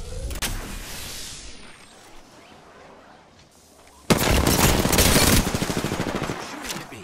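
A drill site battle in a shooter video game, with squads attacking: sharp shots and a rushing whoosh early on, a quieter lull, then a sudden loud stretch of sustained rapid automatic fire and impacts.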